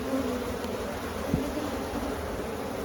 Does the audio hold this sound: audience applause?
no